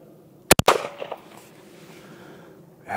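A Mossberg 940 JM Pro camo shotgun firing one-ounce Gecko competition buckshot at 30 yards outdoors, three sharp, loud reports in rapid succession followed by a fading echo and quiet.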